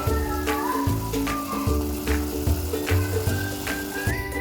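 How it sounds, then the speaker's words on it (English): Tilapia in creamy coconut cream simmers in a pot, giving a close, continuous bubbling sizzle with soft, irregular pops and gentle surges. "You cover to simmer for like 5 minutes"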